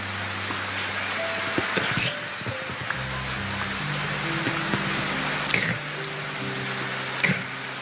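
Steady rain falls in a continuous hiss, with low tonal hum and occasional sharp ticks of drops nearby, moderately loud and without speech.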